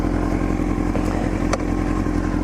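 A Honda CBR1000RR sport bike's engine runs loud and close as the rider sets off, a steady throbbing drone with a slight rise in pitch.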